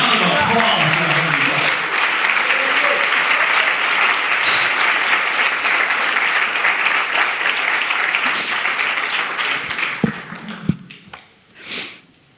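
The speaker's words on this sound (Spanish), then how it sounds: "Big round of applause for our Heavenly Father" A worship congregation gives a loud, full round of applause that holds steady, then thins out and fades to scattered claps and a few small noises at the close.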